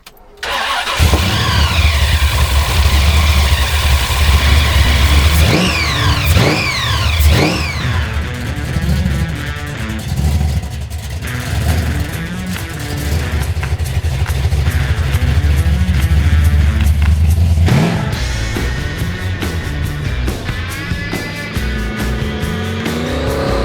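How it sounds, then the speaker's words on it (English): A 1971 HQ GTS Coupe with a 502 Chevy big block roars loudly up close, its engine revving hard in repeated rising and falling bursts before settling into a heavy, sustained rumble. "I am driving this beast. 1971 HQ GTS Coupe, packed full of 502 Chevy big block"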